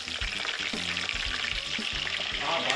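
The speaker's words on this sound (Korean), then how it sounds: "그런데 마늘을 기름에 튀깁니다." Garlic deep-frying in hot oil for dumpling filling, a steady dense sizzle with crackling bubbles throughout, close and fairly loud, no talking.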